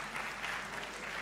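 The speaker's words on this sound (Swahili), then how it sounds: "Those are the claps you want to send back to the peers." An audience at a national survivors' conference claps in a steady dense patter, even and sustained throughout the short stretch with no distinct voices.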